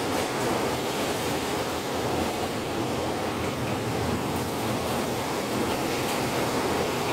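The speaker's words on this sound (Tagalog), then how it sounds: "Yan, lumalakas ang hangin," Strong typhoon wind under signal no. 10 in Macau roars continuously, a loud, steady broadband rush with no pauses and no voices.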